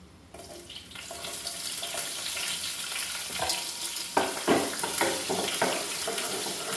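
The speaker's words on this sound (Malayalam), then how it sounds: "കടുക് പൊട്ടിയതിന് ശേഷം ഈ ഉള്ളി അരിഞ്ഞ് വെച്ചിരിക്കുന്നത് ഇട്ട് കൊടുക്കാം." Chopped onions hit hot oil in which mustard seeds have spluttered, setting off a loud, steady sizzle close by, with stirring scrapes and bursts of crackling throughout.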